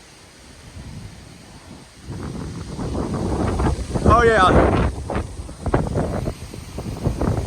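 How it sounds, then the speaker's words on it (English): Strong wind gusts roar and buffet the microphone during a Labor Day windstorm at a house, rising louder midway, with a person briefly speaking over the rushing noise. "Oh wow, big wind gusts over there."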